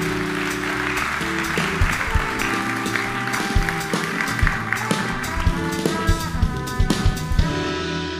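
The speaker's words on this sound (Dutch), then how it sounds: "Dames en heren, een hartelijk applaus voor Jaap Henk Hoepman." An audience applauds a speaker at a Dutch talk event on internet freedom, a dense sustained clapping that runs the whole time over continuous background music.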